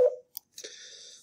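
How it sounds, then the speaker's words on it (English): A phone call interrupts an indoor recording: a short burst of ringtone or electronic tones, a brief click, then a steady high electronic tone held for over half a second, with no talk. "Sorry about that phone call."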